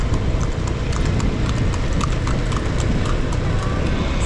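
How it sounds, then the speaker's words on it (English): A horse pulling a carriage with people riding clip-clops along Marlborough Street, its hooves striking the pavement in a steady close rhythm, with faint voices and traffic noise underneath. "And we have some people riding in the horse now."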